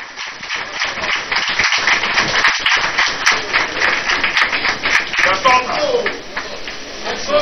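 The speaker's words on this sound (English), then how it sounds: "A round of applause" Audience at a port and maritime sector engagement event in Tema, Ghana breaks into a round of applause, a loud, dense, sustained clatter of many hands, with a voice briefly rising near the end.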